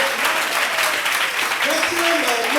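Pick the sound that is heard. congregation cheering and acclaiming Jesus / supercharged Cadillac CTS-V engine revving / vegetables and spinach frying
congregation cheering and acclaiming Jesus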